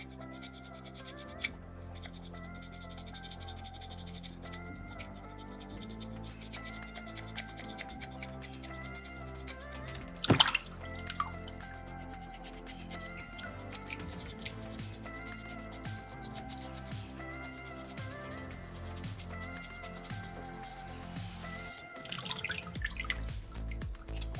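Soapstone is wet sanded with sandpaper and water, giving a steady faint rubbing and scratching with dripping water, one louder splash or knock midway, and quiet background music throughout.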